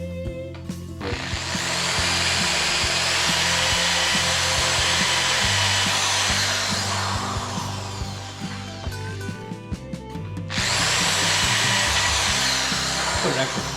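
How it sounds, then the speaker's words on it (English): A power drill whines loudly in two long bursts, boring extra screw holes in RV pantry fittings, the motor droning steadily, with a short pause between and light background talk. "every one of these I'm going to drill an extra hole"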